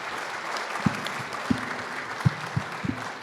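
Audience at a Virginia Senate candidate forum applauding the candidates, a dense, even wash of clapping with a few sharper claps standing out, moderately loud and continuous throughout.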